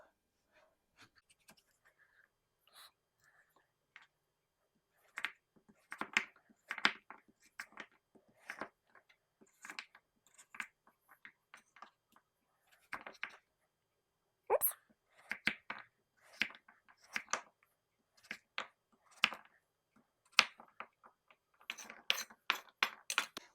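Knife chopping a butternut squash into chunks on a cutting board: irregular sharp thuds and cracks, sparse at first then coming in quicker bursts, close and fairly quiet against a silent background.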